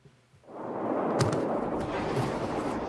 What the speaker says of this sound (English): Extraordinary images tonight of deadly explosions felt by millions in Lebanon.